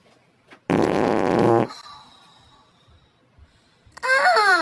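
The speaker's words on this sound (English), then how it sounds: "Ah, who farted?" A loud, long fart sounds up close, then a quieter lull and a second sharp, squeaky burst near the end, with no talking.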